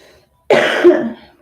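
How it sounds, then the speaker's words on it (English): One close, harsh cough bursts out of near silence. It is short and rasping, and it trails off quickly. "Try to muffle my stoner cough over here for you guys."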